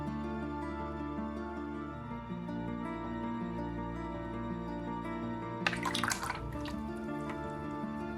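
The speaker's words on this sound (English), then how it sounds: "Rinsed out my brush." Background music plays throughout, then a short burst of splashing water breaks in as a watercolor paintbrush is swished and rinsed in a water pot.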